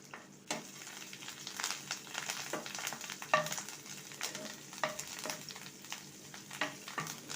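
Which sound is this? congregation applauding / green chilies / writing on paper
green chilies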